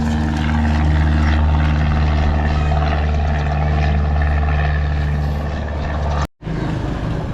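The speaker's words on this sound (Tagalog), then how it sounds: "panibagong eroplano na naman yan" A propeller training airplane from a nearby pilot school drones steadily overhead, loud and continuous with a low engine hum, heard from a moving motorbike until a brief dropout near the end.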